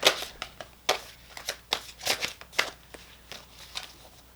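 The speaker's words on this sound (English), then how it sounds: "Let's get a few shuffles in here." Tarot cards being shuffled in a run of crisp riffling bursts and soft slaps, close and fairly quiet, with irregular pauses between shuffles and no talking.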